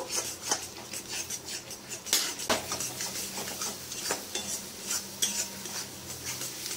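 Yogurt is stirred and fried in oil in a pan for a rohu fish curry, with a spoon scraping and knocking in irregular strokes over a soft, low sizzle, fairly quiet and without speech.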